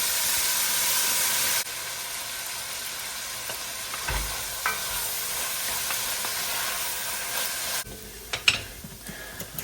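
Leeks and other vegetables, with mushrooms, sizzle in a hot pan, a steady frying hiss that drops back partway through, with a few soft stirring clatters near the end.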